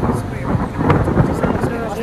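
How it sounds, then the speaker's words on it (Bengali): Thunder rumbles low and continuous over Gulmarg, Kashmir, during light rain that turns toward snowfall, with a steady, wind-like roar throughout. "উপরে কিন্তু মেঘ ডাকছে, ধীরে ধীরে বৃষ্টি হচ্ছে"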